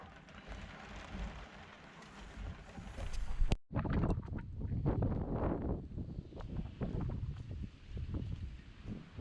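Strong wind gusts across a sheltered marina where surge runs under the seawalls. A broad, rushing roar buffets the microphone, with a sharp crack partway through and uneven gusts after it.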